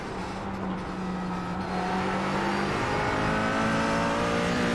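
A GT4 race car in iRacing on the Gateway Roval holds a steady engine drone that climbs in pitch, with a downshift blip settling into continuous acceleration, loud and close throughout.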